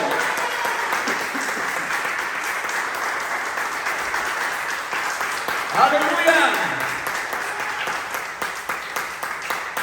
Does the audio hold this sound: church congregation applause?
yes